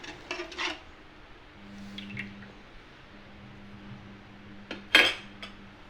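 Ladle stirring a urad dal mixture in a pan over high flame, giving soft intermittent metal scrapes and clinks near the mic, with a sharper clatter toward the end and no voices.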